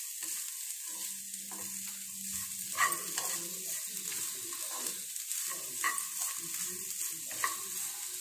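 Tempering spices fry in a pan with a steady soft sizzle, while a utensil stirs and scrapes in a few brief clinks and rustles, close and moderately quiet.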